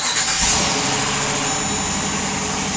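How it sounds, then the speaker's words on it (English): A Dodge Durango started by push button, with a loud close crank that settles into a steady idle rumble inside the cabin. "I'll show you guys a startup."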